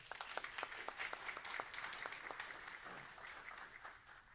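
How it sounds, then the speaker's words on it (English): An audience at a county board of education meeting applauds after a swearing-in, a few seconds of dense, quiet clapping from a modest crowd heard at a distance. "Please give a round of applause for being here"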